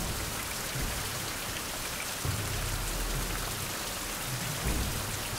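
Steady rain pours down in a survival video game, a dense unbroken hiss with low rumbles swelling now and then, close and loud with no voices over it.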